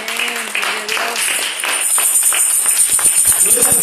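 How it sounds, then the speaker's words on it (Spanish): Applause from a church congregation breaks out and builds steadily, dense clapping filling the room while voices carry through it. "Un aplauso a Él."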